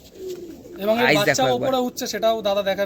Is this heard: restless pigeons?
yes